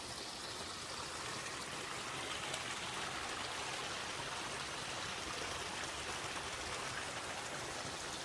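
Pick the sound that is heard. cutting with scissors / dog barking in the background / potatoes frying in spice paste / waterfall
waterfall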